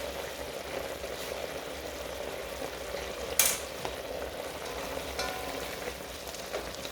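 Zucchini and green peppers frying in a pan with tomatoes, a steady soft sizzle throughout with occasional stirring scrapes and one brief sharp clink midway.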